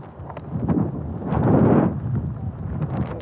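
Low, rumbling buffeting of wind hitting a microphone, swelling louder in the middle before easing, with no voices.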